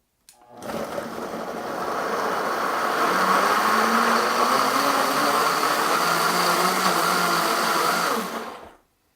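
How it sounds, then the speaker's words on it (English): A blender blending cantaloupe runs steadily at high speed for several seconds, a loud whirring motor with a churning grind, starting and stopping abruptly. "put the lid on the blender and let her rip."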